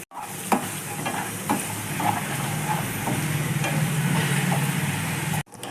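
Turmeric going into a hot frying tempering for lemon rice, a steady loud sizzle with a few sharp spoon clicks against the pan throughout.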